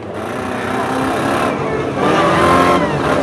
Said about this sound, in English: That engine's still turning good.